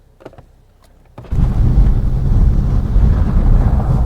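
A Chevrolet Equinox with a camshaft position timing over-advanced fault sets off on a short test drive around a shop; after a quiet second, loud steady engine and road rumble with wind buffeting fills the rest.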